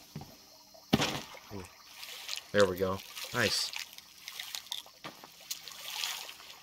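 Water poured over an egg to cleanse it in the horror game Devour, a short trickling splash with brief drips, heard under close, excited talking.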